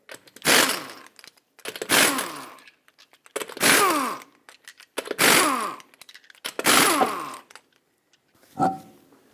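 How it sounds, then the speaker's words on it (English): Lug nuts being removed with a 19mm socket and impact tool from a Honda Accord wheel, five loud buzzing rattling bursts about a second each with brief gaps, then a final short whir, close up. "Use a 19mm socket, remove all 5 lug nuts, and then remove the wheel."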